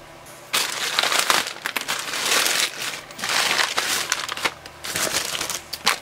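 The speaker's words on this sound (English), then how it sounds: "Bag inside a bag inside a bag." Nested plastic mail bags are pulled open and crinkled up close. The loud crackling rustle comes in steady bursts with brief pauses between them.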